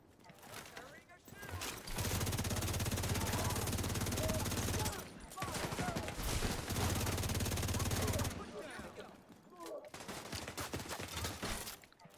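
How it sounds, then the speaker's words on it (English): Dense automatic gunfire from The Division 2 rattles in two long sustained bursts, with shorter scattered shots at the start and end and talk over the shooting. "Who's shooting me? Somebody shot me from behind."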